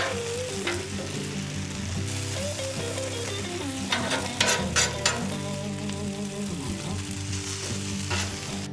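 Hash browns frying in olive oil on an outdoor griddle give a loud, continuous sizzle. A spatula scrapes and tosses them in a few brief clattering bursts midway, with no talking.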